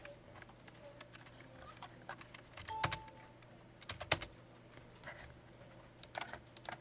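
Typing on a computer keyboard while writing program code for a port scanner, heard as quiet scattered key clicks with a few louder clustered keystroke bursts, no talk.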